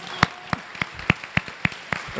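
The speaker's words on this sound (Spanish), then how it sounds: "un aplauso a todas las mamás aquí presentes" A small audience claps sparsely during a church gathering, about eight separate, evenly spaced claps ringing out in a reverberant room.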